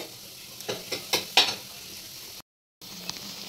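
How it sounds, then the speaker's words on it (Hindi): Crushed garlic and coriander sizzle in hot mustard oil in a pan, giving a close, crackling hiss with a few sharper spits and stirring scrapes, broken by a brief moment of silence. "मैंने डाल दिया इसमें सरसों का तेल और अब मैं इसमें डाल दूंगी लहसुन और धनिया जो मैंने कुटा हुआ था पीस के।"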